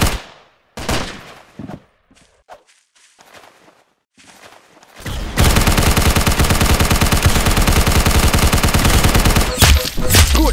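Dense, continuous automatic gunfire from the Roblox shooter Arsenal, loud and close, bursts in after about five seconds of quieter, scattered game sounds and keeps rattling almost nonstop to the end.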